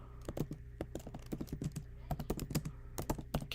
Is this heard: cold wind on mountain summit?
no